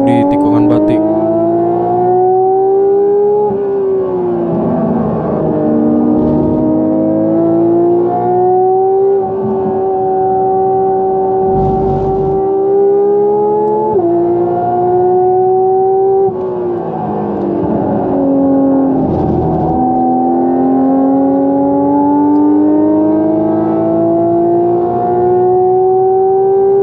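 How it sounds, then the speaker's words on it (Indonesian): A race car drifting through the Batik corner on a circuit, with a loud, sustained engine howl rising and falling through gear changes and revs, close and continuous. "Amandio melakukan aksi drift di tikungan Batik"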